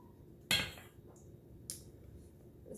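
A heavy bowl clunks down sharply once, followed by a lighter knock and faint scraping in an otherwise quiet room.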